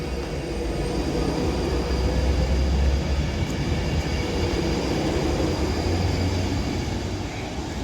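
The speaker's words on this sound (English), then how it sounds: "this Pendolino's now leaving now to go to Liverpool Lime Street" A Pendolino train pulls out of Runcorn station bound for Liverpool Lime Street, its steady rumbling roll and low motor drone swelling slightly mid-way, close and continuous with no talk.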